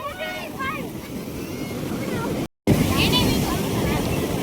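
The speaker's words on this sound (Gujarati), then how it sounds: "જો તમે આ વેળ ફૂગવાટા મારી રહી છે" Sea surf rolls and crashes steadily on the shore under gusty wind noise, with people chattering nearby over the waves.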